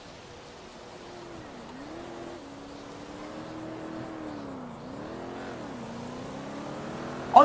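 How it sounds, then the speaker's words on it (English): Car engine in the GTA roleplay game NoPixel, a steady drone with rising and falling pitch as the vehicle shifts speed, fairly quiet throughout, with a sharp louder burst at the very end. "I can hear the engine."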